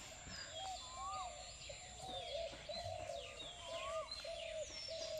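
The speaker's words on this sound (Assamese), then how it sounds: "এইখিনিতে কোনোবা এজোপা গছত কুলি এটা পৰি আছে কুলি চৰাই এটা" An Asian koel calls from a tree, its repeated rising whistles fairly faint and distant, with softer chirps from other birds scattered in the background.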